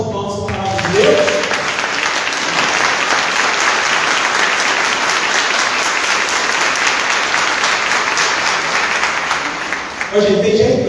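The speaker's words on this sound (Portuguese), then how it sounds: "Vamos dar as salvas de palmas para a palavra de Deus." Dense, sustained applause from a church congregation during a sermon service, steady and loud for several seconds, with a voice speaking briefly at the start and end.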